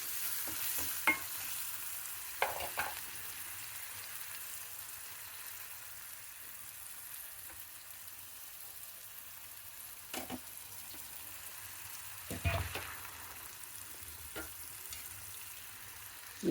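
Food frying in a pan for a home Telugu lunch, a soft, steady low sizzle with a few sharp spatula scrapes and knocks at scattered moments.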